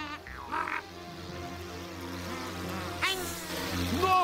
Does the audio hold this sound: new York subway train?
no